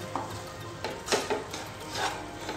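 A spoon stirs homemade masala in a cooking pan, making soft, close scraping and rubbing strokes in a few faint bursts against a quiet background.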